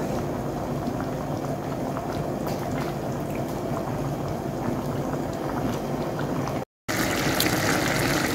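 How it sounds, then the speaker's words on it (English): Salt mackerel rundown simmers in coconut milk, a steady close bubbling and hissing that continues throughout with one brief dropout. "Just allow that to continue simmering."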